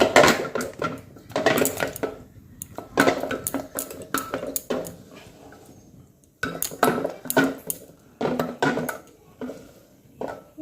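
Boiled mung lentils being mashed in a pot with a masher, heard as bursts of scraping and knocking against metal in irregular clusters, close and fairly loud, with short pauses between strokes.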